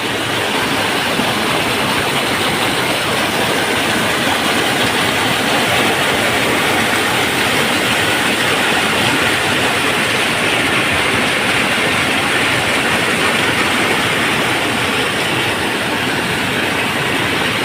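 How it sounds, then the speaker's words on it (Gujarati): Water pours heavily during a torrential downpour in Vadgam taluka near Palanpur, a loud, dense, unbroken roar that fills the whole stretch with no voices over it. "વડગામ તાલુકામાં ધોધમાર વરસાદ થયો, એના કારણે જોઈ લો કેટલું પાણી પડે ખાલી"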